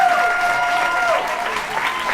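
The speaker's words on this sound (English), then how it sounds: "We get a round of applause for all of our musicians and our beers." An audience at a classical music and craft beer event bursts into steady, full applause for the musicians and the brewer, a dense wash of clapping that holds for a couple of seconds with a faint sustained tone beneath.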